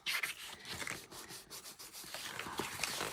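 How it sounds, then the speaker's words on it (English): Faux leather being buffed with a cloth gives close, soft rubbing strokes in an uneven back-and-forth rhythm, scratchy and fairly quiet. "And you can see that some color is being lifted as I'm buffing."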